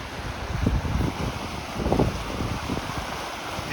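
Steady rushing water from a fast-flowing river after a storm fills the scene, a broad continuous roar with occasional swells, close and fairly loud with no voices.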